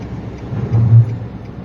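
A single car passes close by on the road beside another moving car, a low engine rumble swelling to a peak near the middle and then easing off.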